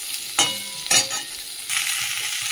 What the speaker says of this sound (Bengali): নুন হলুদ দিয়ে একটু কপিটাকে ভালো করে একটু ভেজে নেবো।